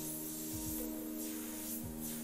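An airbrush fed by a compressor at around 30 to 40 PSI sprays paint in a steady, faint, breathy hiss over a low mechanical hum, with brief shifts as the spray starts and stops.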